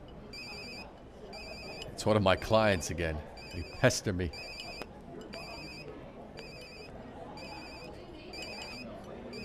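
A mobile phone rings indoors with a repeating electronic ringtone in short, evenly spaced bursts, steady throughout, while voices talk briefly over it partway through.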